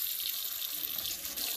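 Tap water pours into a bowl to wash foraged fiddleheads, a steady hissing rush that continues throughout and ends with a small splash.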